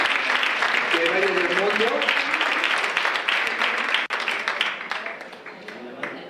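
Studio audience applause on a Spanish television variety show, a dense wash of clapping that stays loud and steady throughout, dipping briefly near the end, with voices speaking over it.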